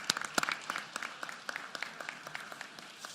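Steady applause from a crowd at a State of Public Education address, a dense patter of clapping heard at a moderate distance throughout.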